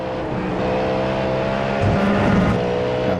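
Cadillac GTP race car engine in the iRacing sim, a loud steady close-up drone that pushes harder midway through, continuous with no talk over it.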